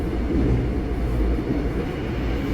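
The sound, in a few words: subway train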